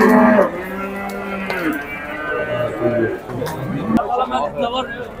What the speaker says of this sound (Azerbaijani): Böyük böyük inəklər var, cins inəklər.